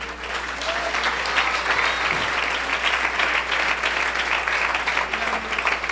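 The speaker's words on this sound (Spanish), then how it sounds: "Aplauso fuerte a Jesús." Loud, sustained applause from a church congregation, dense and even throughout with no pauses.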